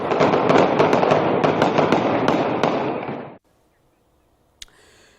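Rapid bursts of assault rifle fire on Lahore streets, a dense, loud crackling stream of shots lasting about three seconds, then silence broken by one sharp distant report.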